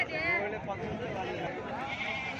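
Bleating goats mixed with nearby chatter, several wavering calls overlapping under busy voices at the weekly Gudur livestock market.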